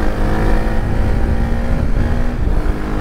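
A Suzuki DR 350 trail motorcycle drones with a loud, close engine note as it pulls away, a steady rumbling roar that shifts pitch slightly near the end.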